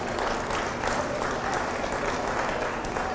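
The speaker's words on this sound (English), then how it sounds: "Let's go ahead and give our last class of market steers a round of applause." Dense audience applause at a livestock fair for a class of market steers, an even wash of many hands clapping at moderate distance with no talk over it.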